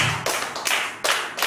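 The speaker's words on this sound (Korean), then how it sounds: "박수 한번 치세요" Church congregation clapping in a few sharp, separate bursts spaced about half a second apart, loud and close, with no talking.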